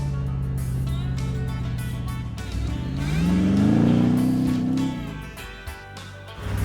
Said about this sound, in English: Glenno, that has got to be the sweetest sounding V8 ever